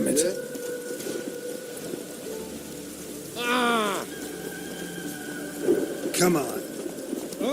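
Rain falls steadily in The Witcher 3: Wild Hunt, a soft wash of drops beneath the game's ambience, and a voice talks briefly in the middle of the clip and again near the end.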